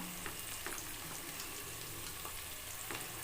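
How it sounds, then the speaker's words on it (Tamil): Sliced onions and garlic sautéing in a pan for a tamarind curry, a steady, close sizzle with occasional light stirring scrapes and no talk. "நல்லா வதக்கிக்கோங்க பாருங்க நமக்கு வந்து வெங்காயம் நல்லா வதங்கிருச்சு இப்போ வந்து பூண்டு சேர்த்துக்கலாம்"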